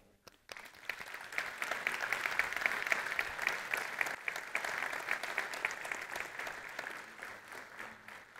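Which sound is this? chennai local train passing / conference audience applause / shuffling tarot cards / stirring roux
conference audience applause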